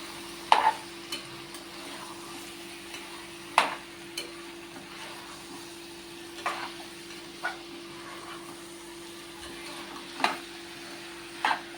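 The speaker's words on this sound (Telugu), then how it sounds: "కలుపుకుందాము" Dal with tomato and mango pieces being stirred in a pan, bottle gourd and moong dal in the pot: soft, scattered scraping strokes of a spoon with a quiet sizzle beneath, close and fairly faint, no talking.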